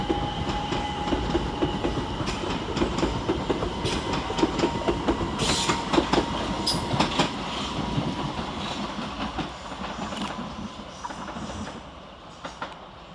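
Class 377 Southern electric units 377412 and 377453 pull out of Preston Park station on the far side, working the Littlehampton to London Victoria service: a steady, fairly loud rumble with clickety-clack wheel beats that eases off toward the end.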